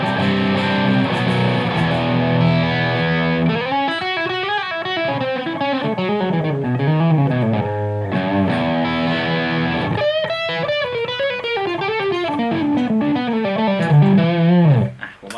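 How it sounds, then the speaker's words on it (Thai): Sustained distorted electric guitar playing chords and bending lead lines, loud and continuous with a gritty, saturated tone throughout; the guitar is fitted with a Schaller tremolo spring. "มาลองฟังเสียงแตกดูบ้างครับ"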